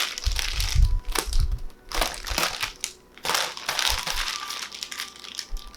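Packaging for meditation essentials is cut and torn open at close range, giving loud crinkling, crushing rustles in irregular bursts with brief pauses, and no talking.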